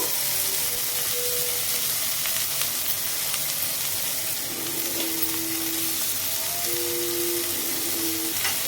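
Dried prawn shells fry with garlic in a pan for a Godavari-style gongura curry, giving a steady, close hiss of sizzling oil throughout with faint stirring scrapes and a few brief tonal squeaks, no talking.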